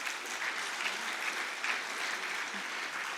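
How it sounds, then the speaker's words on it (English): An audience applauds steadily at a state-level World No Tobacco Day observation event, with dense even clapping throughout and no voices over it. "please give the both of them a huge round of applause"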